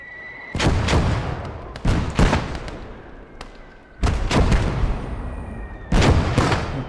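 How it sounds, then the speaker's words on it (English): Mortar fire in the war game Motherland booms in several heavy, sharp blasts spaced a second or two apart, each with a rolling decay, loud and close. "Okay, that's the mortars."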